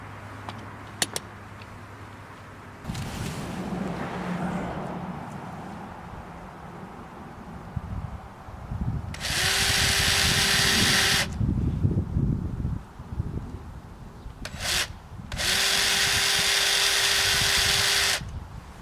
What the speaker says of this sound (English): before I drill anything